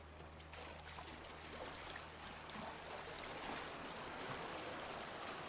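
Continuous broadband rush of river water in the video game Dragon Age Inquisition, a steady, fairly loud wash of flowing stream with splashy texture, heard alone with no voices, plus a faint low hum underneath.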